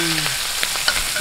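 Beef morcon fries in a pan with a continuous loud sizzle and occasional soft stirring clicks, close up and without speech.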